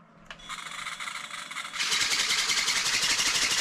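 Small remote-controlled dragonfly toy on 27 MHz, its tiny motor whirring into a high buzzy flutter as the wings start flapping, then getting louder and rougher when the throttle opens, close and alone.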